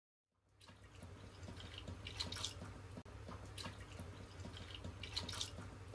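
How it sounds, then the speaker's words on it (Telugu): Three cups of milk pour into a kadai for makhana sabudana payasam, a soft continuous splashing and trickling stream that begins after a short silence and runs steadily to the end. "అదే కడాయిలో ఒక 3 కప్స్ మిల్క్ వేసుకోండి."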